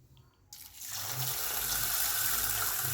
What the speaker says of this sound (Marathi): नंतर यातलं पाणी आपल्याला काढून घ्यायचं आहे.